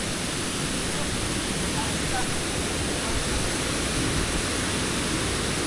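A strong, rushing river current roars in a constant dense wash of broadband noise, loud and close, with no break across the whole span.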